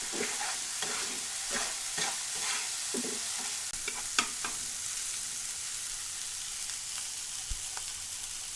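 Prawns frying with spinach masala in a pan, a steady hiss of sizzling beneath soft rhythmic scraping strokes of a stirring spoon early on, then mostly a continuous quiet sizzle with a couple of light knocks.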